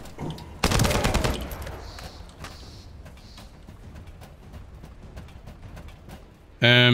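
Enemies open fire in The First Descendant: a loud, dense burst of automatic gunshots, followed by scattered fainter shots and game ambience, then another sharp burst at the end.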